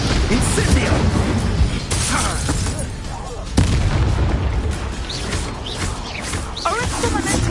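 Explosive Bombardo spell blasts in the game Hogwarts Legacy, loud booming bursts with rumbling tails and crackling debris amid other combat noise.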